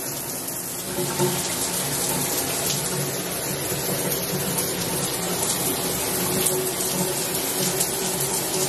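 Water from a shower sprays hard like a power wash, rushing loud and continuous at close range with no talking.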